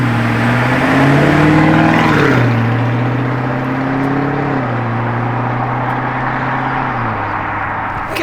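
A dirty Lamborghini Urus SUV runs nearby with a steady, droning engine note whose pitch rises and falls gently as it revs slightly, heard alone without voices.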